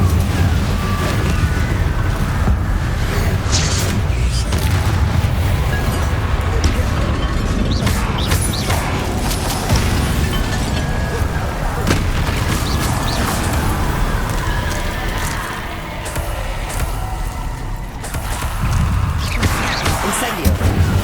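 Incendio fire spell cast again and again in Hogwarts Legacy gameplay, with loud bursts and crackling blasts among dense, continuous combat effects and other spells that never let up.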